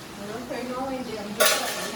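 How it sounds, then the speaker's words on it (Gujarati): Dishes and pots being washed in a home kitchen, soft scraping and rinsing followed by a sudden bright metallic clatter of vessels, at close range, with faint background voices. "અહીંયા જો વાસણનું કામ ચાલુ છે"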